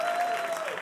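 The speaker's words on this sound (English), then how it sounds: "Clap your hands if you don't have kids." A comedy club audience claps hands in a brief burst of dense applause, with a faint voice cutting through the clapping.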